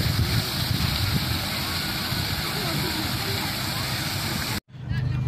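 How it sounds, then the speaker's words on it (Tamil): Water pours steadily in a landscaped water feature at Kuwait Little Jungle park, a constant near rushing wash with a brief dropout near the end. "பாருங்கள் அந்த தண்ணி வாட்டர் எவ்வளோ சூப்பராக பண்ணியிருக்காங்கன்னு"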